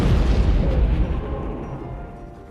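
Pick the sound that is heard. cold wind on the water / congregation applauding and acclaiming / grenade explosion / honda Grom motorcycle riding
grenade explosion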